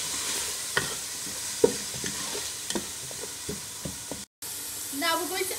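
Chicken kofta frying with red chilli powder and turmeric being stirred in, a soft sizzle under scattered spoon scrapes and knocks against the pan, with a brief dropout and a faint voice near the end.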